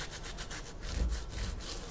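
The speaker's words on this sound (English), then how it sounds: "And I'm just sanding" Steady scratchy rubbing of hand-held sandpaper across the painted surface of an old wooden cupboard, continuous back-and-forth strokes, close and fairly quiet.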